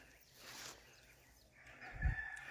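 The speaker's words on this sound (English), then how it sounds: "listen to the rooster crow" A rooster crows at sunrise, faint and distant at a race's overnight loop, a thin rising call standing out over quiet outdoor ambience, followed by a low thump near the end.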